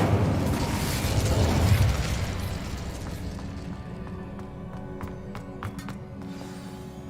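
A fire spell cast in the video game Hogwarts Legacy: a loud, rumbling burst of flame that swells for about two seconds, then fades into a crackling tail with scattered sharp pops.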